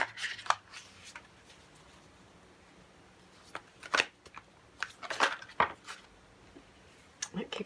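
Soft, scattered bursts of tarot cards being shuffled, riffled and tapped together in short clusters, close up and quiet, with pauses between.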